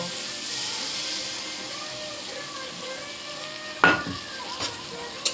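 Mustard paste stir-fried in a pan with turmeric, chili and chopped tomato, giving a steady soft sizzle with a few sharp scraping stirs near the end.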